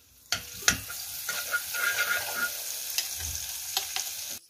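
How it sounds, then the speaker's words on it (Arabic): Garlic frying in oil for Egyptian koshari sauce, a close, crackling sizzle with a few sharp utensil clicks as it is stirred. "حطيت شويه زيت على شويه زيت مكان البصل، وهننزل بالتومه كده"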